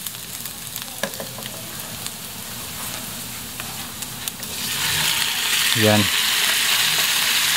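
Marinated pork belly hits a pan of softened onions for pork menudo, a clicking stir giving way to a louder, steady frying sizzle that swells and holds, close by, with a brief voice.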